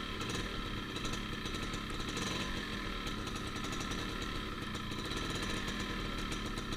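A Yamaha Force One 110cc four-speed motorcycle pulling away on a ride, its engine buzzing in a continuous, rough, loud drone with no pauses.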